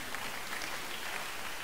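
A church congregation claps for Jesus, a dense, steady wash of many hands blending into a continuous hiss, fairly loud and even throughout, with no talk over it.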